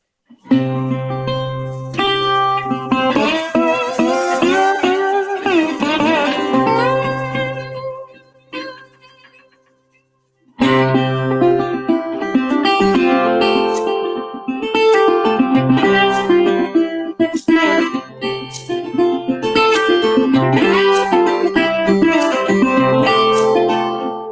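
A strummed acoustic guitar performance of Stephen Foster's song Hard Times Come Again No More with a singing voice, full and close, dropping out briefly midway before the performance resumes.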